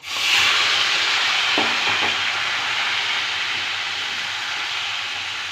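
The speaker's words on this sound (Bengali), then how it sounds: "এটাকে ভালো করে মিশিয়ে নেব।" Boiled cabbage is stirred and mixed through a pan of spiced masala for a Bengali rohu fish and cabbage ghonto, giving a steady close sizzle with a few soft spoon scrapes and no talking.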